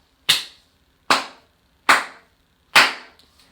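Four sharp, loud hand claps, spaced evenly about three-quarters of a second apart, each with a short decay, alone with no talk.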